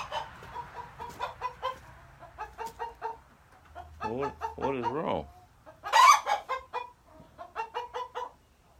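A broody brown hen clucking with repeated short, rhythmic clucks and a few rising squawks close by, while someone speaks briefly.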